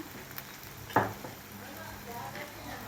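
Goat brain mixture for bheja fry being stirred in a frying pan, a soft sizzle under one sharp spatula scrape and a few light scrapes, fairly quiet throughout.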